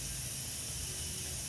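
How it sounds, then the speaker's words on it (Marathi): A kitchen pressure cooker vents steam just before its whistle, making a continuous, even, broadband hiss throughout the short moment. "कुकरची शिट्टी होईल आता."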